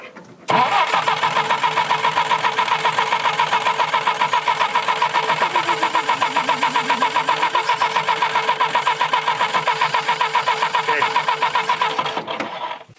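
A 1965 Jeep CJ5, left rusting in the woods, cranks continuously on its starter for about twelve seconds, a loud, rapid, even rhythmic churn close by that never catches and fires, then abruptly stops.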